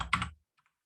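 A brief burst of keys clatters on a computer keyboard, then quickly falls to near silence with a couple of faint clicks.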